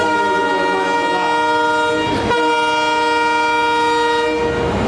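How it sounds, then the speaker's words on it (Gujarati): A Haridwar-bound train rumbles past close by in Rajkot with a loud, sustained horn blaring over the steady roar of rolling wagons. "આવી ગઈ આ ટ્રેન જાય"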